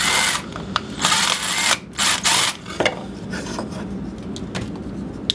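A power drill drives a screw into a pocket hole in wood, giving several short, loud whirring bursts and then quieter intermittent clicks and taps from the work close by.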